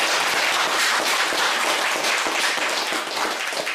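An audience at a lecture workshop claps continuously in a dense, steady round of applause that fills the room and stays loud throughout, with no voices over it.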